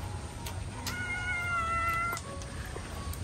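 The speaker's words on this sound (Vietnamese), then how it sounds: "Ê mấy mèo." A cat meows several times in a tonal, drawn-out way, fairly close over a low background hum, with no talking.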